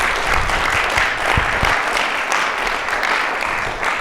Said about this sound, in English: I think you guys should applaud the presenters